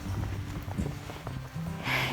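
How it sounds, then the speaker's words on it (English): Horses being brought in for feeding on a snowy homestead at dusk, with hoof clip-clops and shuffling at moderate distance and a brief snort or whinny near the end. "time to get the horses"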